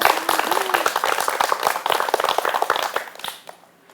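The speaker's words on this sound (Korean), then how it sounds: "박수 한번" Audience clapping after a senior lecture, a dense burst of many hands that fades out toward the end, with a brief voice underneath.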